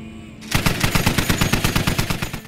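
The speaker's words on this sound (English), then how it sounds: "now has a DShk mounted to the top of the turret" Heavy DShK machine gun mounted on a T-62 tank turret in the military game Squad, opening up after a short pause with a rapid, steady burst of loud, close shots that keeps going to the end.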